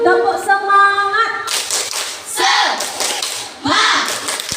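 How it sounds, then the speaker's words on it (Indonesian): Schoolchildren in a classroom perform a rhythmic spirit clap, with a sung or chanted tone at first, then loud bursts of patterned clapping in several close groups. "Tepuk semangat."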